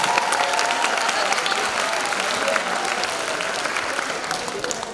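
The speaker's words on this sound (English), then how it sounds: "So a round of applause for all the real talent we've seen already." A teachers' variety show audience gives sustained applause, a dense, steady wash of many hands clapping that fades slightly toward the end.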